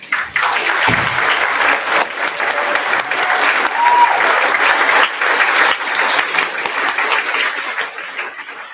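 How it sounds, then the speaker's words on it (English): A large audience at a high school senior band performance applauds graduating students steadily, dense clapping sustained for several seconds at full volume, with no voices standing out. "give a round of applause for our graduating kids"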